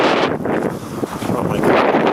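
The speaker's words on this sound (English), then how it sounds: "Snow blowing everywhere." Gusty wind blows snow around outdoors on an icy day, a steady close rushing roar buffeting the microphone with no speech.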